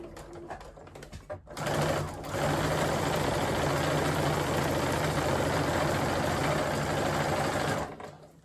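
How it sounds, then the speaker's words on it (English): A sewing machine sews a French seam in navy cotton thread, starting with brief short stitching and a reverse, then running in one long, steady, loud burst before stopping, close up. "Okay, so sew about 1 centimetre, reverse."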